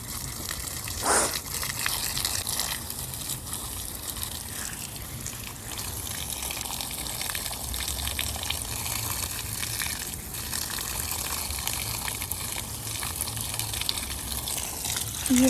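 Water gushes steadily from a hose or tap onto garden plants, a continuous close splashing and hissing flow lasting throughout with no talking.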